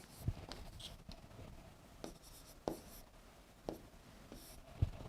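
Chalk or marker writing on a board in a classroom lesson, short scratchy strokes in bursts with a few sharp taps, close and fairly quiet with no talking.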